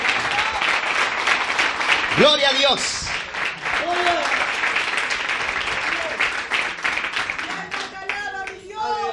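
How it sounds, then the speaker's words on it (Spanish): A church congregation claps together in sustained, loud applause of praise, with shouted voices and cheers rising over the clapping throughout. "le damos un fuerte aplauso todos juntos de alabanza al Señor"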